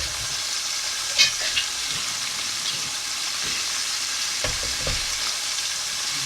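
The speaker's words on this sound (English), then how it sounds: "we're just going to try to get a nice sear on each side of the beef" Beef sears in a hot pan with a strong, continuous sizzle close by, punctuated by a few faint clicks and taps.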